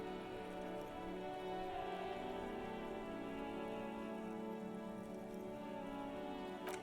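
Soft, steady rain patters continuously in the video game Disco Elysium, layered over a faint, sustained ambient drone with no speech.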